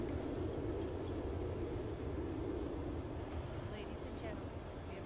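An ERJ 190 jet taxiing to the runway in the Prepar3D flight simulator, a steady low engine rumble and broadband whine holding at an even level throughout.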